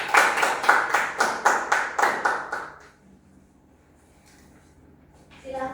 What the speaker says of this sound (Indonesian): Beri aplaus kepada kelompok 1.